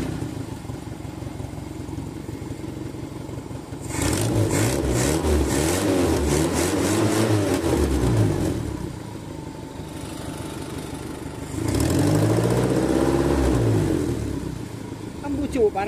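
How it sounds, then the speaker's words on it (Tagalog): An owner-type jeep engine turns over and starts, then revs up loudly in two surges with a rougher idle between them, close by. "Start ko na itong makina mga bossing."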